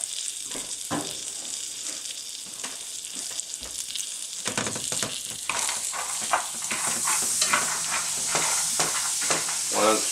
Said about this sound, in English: Did you hear it beginning to sizzle?